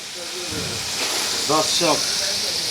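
Chicken pieces deep-fry in a large batch of oil at a street food stall, giving a constant hissing sizzle, while someone speaks briefly over it at close range.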